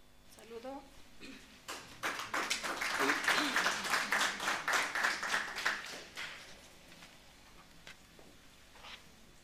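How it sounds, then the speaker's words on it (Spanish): A church congregation at a Spanish-language prayer service claps in a quick, rhythmic burst that swells and then fades, preceded by a brief voice and followed by scattered faint taps. "Vamos a recibir, por favor, con fuertes aplausos."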